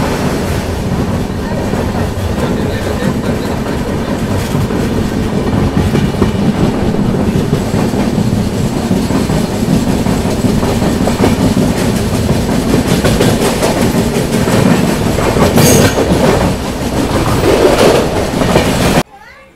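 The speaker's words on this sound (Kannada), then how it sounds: "ನಮ್ಮ ಹರಿಪ್ರಿಯ ಎಕ್ಸ್ಪ್ರೆಸ್ ತಲುಪಿದೆ ಮುನಿರಾಬಾದ್ ರೈಲ್ವೆ ಸ್ಟೇಷನ್ಗೆ" Haripriya Express sleeper train running on rails, a loud steady roar of wheels with clickety-clack rhythm throughout, a brief voice over the din, cutting off abruptly at the end.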